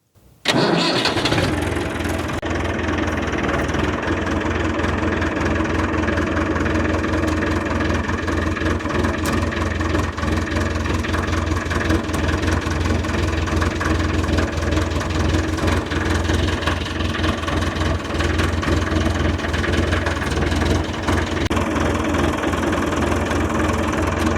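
A heavy tractor engine cranks and catches, then settles into a loud, steady, rumbling idle that continues without pause.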